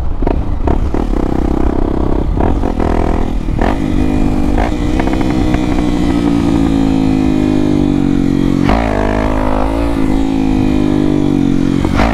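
A Honda XRE 300 motorcycle with a Dore exhaust revs loudly and close, its engine rising and falling through repeated throttle blips and sustained high revs, with rough exhaust crackle and no talk.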